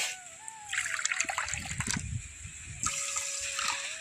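Water poured into a bowl of sugar for syrup while making Bengali kalojam sweets, a short splashing trickle that swells into a steady close pour, with a faint tonal whine running underneath.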